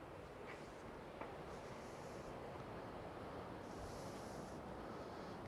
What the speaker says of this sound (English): You can hear the waterfalls down from the river,